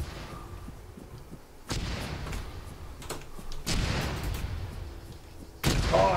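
Mortar rounds hit in the military shooter Arma 3 with three heavy, booming explosions spaced a couple of seconds apart, each a sharp, loud blast that fades into a rumbling tail.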